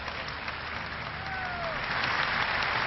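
Crowd applause at a French employers' meeting in 1982, a steady dense clatter of many hands that holds throughout and swells slightly toward the end, with faint voices underneath.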